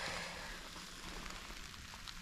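Steady rain hisses and patters on surfaces, faint and continuous, with no voices.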